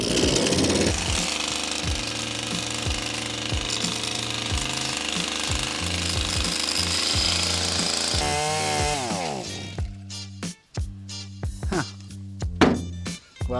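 A broken lawn mower's engine runs steadily and loudly without a transmission, its uneven chugging churning for about nine seconds before it sputters, stumbles and cuts out into scattered knocks and clanks.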